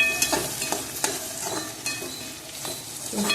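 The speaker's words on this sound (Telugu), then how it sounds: "ఒక ప్యాన్ పెట్టుకొని ఆయిల్ వేసుకున్న తర్వాత వీటన్నిటిని ఒకసారి వేసుకున్నాను అనమాట" Chopped vegetables sizzle in oil in a pan on a low flame for spaghetti pasta while a spoon stirs them, with a steady soft fry and periodic scraping strokes, close by.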